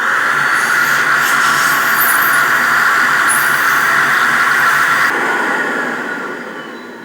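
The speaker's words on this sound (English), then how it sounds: "I've got this air blower. We're gonna see if we can blast anything more out of there" A loud, steady hiss of compressed air blasts debris out of a leaf blower on a snowy day, holding constant for about five seconds and then tapering off.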